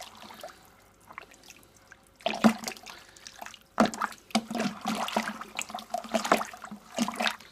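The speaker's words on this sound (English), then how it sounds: "Give that a stir." Bentonite clay being stirred into a white wine kit, sloshing liquid splashes and swirls in a fermenter in irregular, close bursts after a quiet start.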